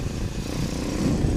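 A small pit bike engine drones at a steady low pitch, close and continuous, with no voices over it.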